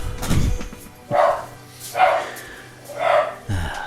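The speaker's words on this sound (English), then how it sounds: "Silly dog." A dog in a home workshop barks at someone passing outside, letting out four or five sharp, evenly spaced woofs at close range.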